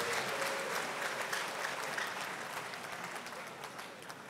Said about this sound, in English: A louder round of applause to our Minister of State